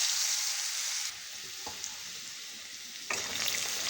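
Long-cut potato strips fry in hot oil with a loud, bright sizzle that drops back and then surges again as they are stirred, close up with no voices.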